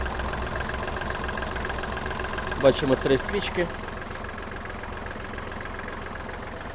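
A small three-injector 1400 cc diesel engine on a Kubota GL-21 mini tractor idles with a steady low chugging rhythm while someone talks over it, with a few brief clanks partway through.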